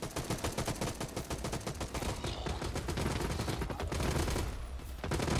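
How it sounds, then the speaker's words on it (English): Rapid gunfire bursts fill a round of the PvPvE video game Hawked, dense, loud repeated shots with only brief gaps. "What are you shooting at?"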